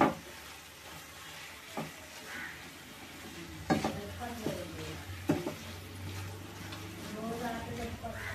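Amaranth leaves with onion chili paste are stirred in a pan, soft scraping and a low sizzle punctuated by several sharp clicks of a utensil against the pan, quiet and close while a person talks.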